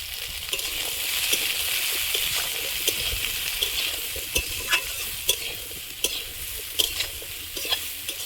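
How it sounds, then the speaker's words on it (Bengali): Steady sizzling of eggplant frying in a pan after bitter gourd, with intermittent scraping and clicking from a spatula stirring, growing more distinct toward the end. "উচ্ছেটা ভেজে নিয়েছি, এবার বেগুনটা দিয়ে দেবো।"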